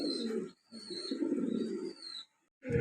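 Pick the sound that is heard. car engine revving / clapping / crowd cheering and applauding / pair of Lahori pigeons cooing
pair of Lahori pigeons cooing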